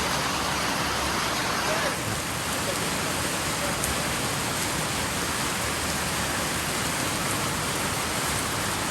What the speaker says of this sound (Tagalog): So maulan na araw ngayon.